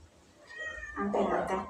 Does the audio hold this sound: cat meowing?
yes